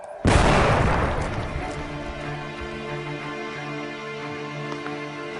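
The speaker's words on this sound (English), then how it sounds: "This is now going to focus the energy right on the center point of the detonation." An explosive lens charge detonates outdoors with a single sudden loud boom, followed by a long rumbling decay that fades slowly over several seconds.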